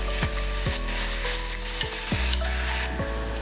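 Onion fries in ghee with cumin and asafoetida, a close, steady sizzle broken by several soft bumps as the pan is stirred, with no talking.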